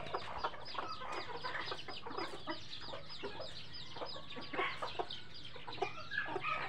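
Backyard chickens and young chicks cluck and chatter repeatedly at feeding time, a busy overlapping flock sound at moderate distance with no talking.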